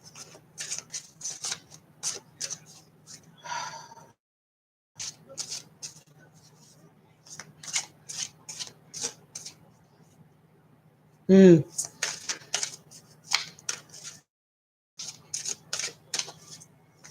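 An oracle card deck is shuffled and a card drawn, with rapid dry flicking and riffling clatter in bursts between stretches of a person talking.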